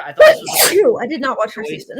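A person sneezes once, sharp and close, set among casual conversation between two people talking over it.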